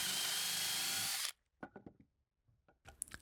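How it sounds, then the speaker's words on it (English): A power drill bores hinge holes into wooden kitchen cabinet fronts, a loud steady whine for just over a second that cuts off abruptly, followed by quiet knocks and handling noises of the wood. "drilled the holes for the hinges"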